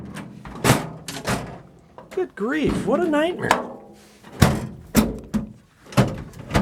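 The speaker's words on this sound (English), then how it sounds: "Now I can close the drawers." Toolbox drawers slam shut in a string of sharp metallic bangs and clacks, close and loud. Someone speaks partway through, and a squeaky, whining drawer slide sounds between the impacts.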